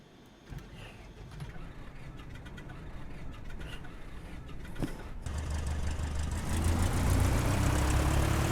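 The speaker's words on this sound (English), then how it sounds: "Okay, that's the engine started." A light aircraft engine in Microsoft Flight Simulator 2020 runs on after start-up, a steady mechanical drone and rattle that grows louder and fuller partway through and then holds a constant roar.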